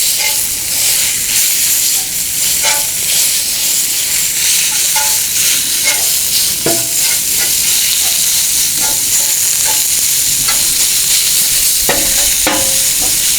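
Eggs frying on a Blackstone griddle give a loud, steady sizzle with scattered crackles and pops throughout, and no one speaks.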